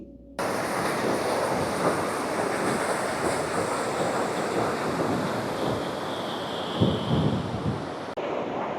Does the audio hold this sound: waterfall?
yes